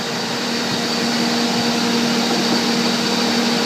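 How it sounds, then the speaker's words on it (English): Two vacuum pumps on a 2004 CR Onsrud 145G16D CNC router drone continuously with a steady hum and airy hiss throughout, loud and unchanging. "2 vacuum pumps."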